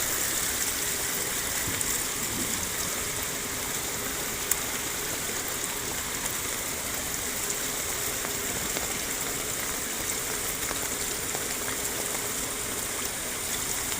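Steady heavy rain pours on a road at Vagamon, a dense unbroken hiss of water close by with no gaps across the whole stretch, alone without any voices.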